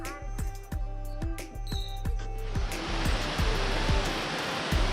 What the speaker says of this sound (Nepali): जति नजिक गयो त्यति पानीको छाँगोको आवाज चाहिँ सुन्न सकिन्छ।